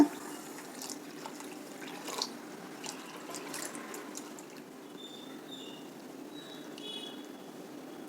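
Faint trickling and splashing of water poured into a bowl of roasted rice grits, soft and close, with a few light clinks and drips fading toward the end.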